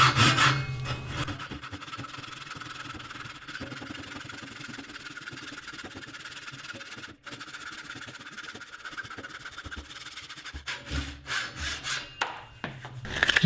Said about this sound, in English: Just going to take a piece of 100 grit sandpaper and wrap it around this and sand it smooth.